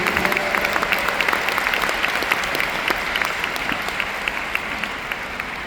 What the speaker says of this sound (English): Yes, please an applause for David.